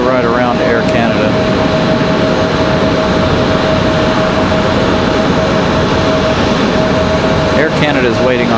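A PSA Airlines CRJ regional jet taxis around an Air Canada plane at a stormy Raleigh-Durham airport, its steady engine whine and broadband roar loud and continuous, with a voice talking over it.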